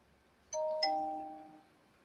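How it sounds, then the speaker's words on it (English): A Twitch chat notification chime plays two quick ding-dong tones, clean and clear against near silence, then rings out and fades. "What was the ding dong notification?"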